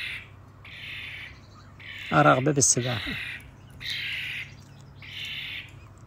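A European starling gives repeated harsh squawking calls while being bathed with light droplets of water, in regular bursts close by, and a voice speaks briefly in the middle.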